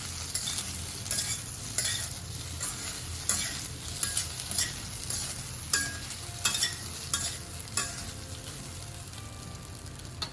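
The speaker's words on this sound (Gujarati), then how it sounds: "અને હવે આપણે બધું બરાબર મિક્સ કરી લઈશું." Cut idli being stirred into tempering in a pan, with repeated scraping and clinking strokes over a soft, continuous sizzle of frying, close and fairly quiet, with no talking.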